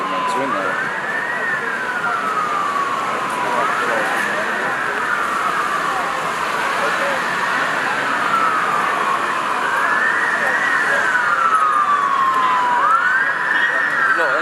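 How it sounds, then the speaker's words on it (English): Emergency sirens wail continuously in a repeating rising-and-falling pattern, loud and steady over a busy street's background hum, with a few quiet voices underneath. "Those sirens are meant to,"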